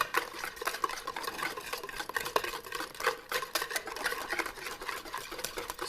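A whisk stirs caramel sauce into smoked caramel pecan pie filling in a bowl, giving a steady, soft scraping and ticking rhythm that stays faint and continuous.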